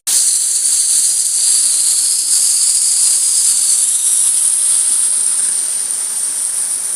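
Hidden waterfall in Badger Wood, Todmorden, a loud, steady rush of falling water close by, holding constant for the whole stretch with no other sounds.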